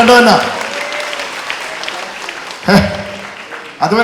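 An audience at a prayer retreat at Galgutha retreat centre, Kurumal, claps, a diffuse patter of applause heard beneath a loud, echoing preacher's voice, with short louder bursts toward the end.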